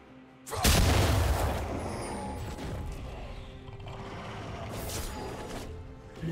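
A turret destroyed in a League of Legends match lands as a sudden heavy boom followed by a crumbling, rumbling collapse that fades over several seconds, with a second softer impact later.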